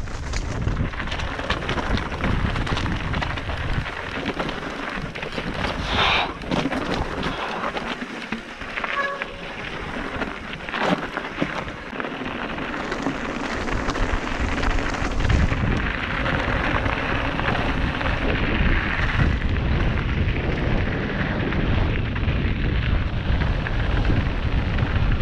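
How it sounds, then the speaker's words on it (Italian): Strong wind buffets the microphone on a mountain trail near Punta Larici, between Ledro and Garda, a loud continuous roar with gusty swells and no break across the whole stretch. "C'è un vento che te lo raccomando"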